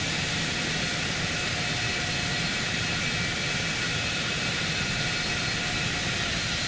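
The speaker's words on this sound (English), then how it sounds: "nice takeoff there from the 737" Boeing 737 jet taking off in a flight simulator game, a steady broadband engine roar holding at constant loudness throughout, dense and even with no talk over it.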